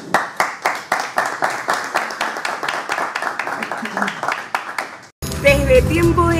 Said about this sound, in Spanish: a quien también lo podemos aplaudir